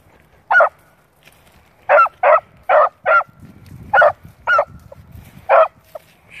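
A puppy barking outdoors, nine short sharp barks in uneven bursts, some in quick pairs, loud and close, with a faint low rumble in the background between barks.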